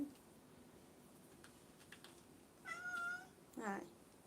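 A cat meows in a garden, giving two clear meows in quick succession, moderately loud against quiet outdoor background.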